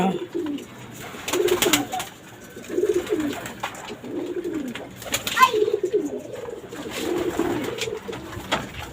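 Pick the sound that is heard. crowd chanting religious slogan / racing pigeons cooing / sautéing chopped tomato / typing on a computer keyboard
racing pigeons cooing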